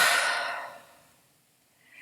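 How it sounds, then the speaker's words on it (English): One deep breath, a breathy exhale that is loud at first and then fades into near silence, with a faint intake at the end, heard alone in a quiet room during a calming breathing exercise. "take another deep breath in and out"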